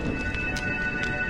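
Rain in the video game Honkai: Star Rail, a short steady hiss of falling rain with a few soft splashy bursts and a faint tonal hum beneath.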